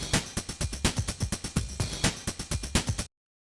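Jungle drum and bass breakbeat, fast and dense, with punchy kicks and crisp snares chopped in a rapid, syncopated pattern, loud and continuous before cutting off abruptly into silence.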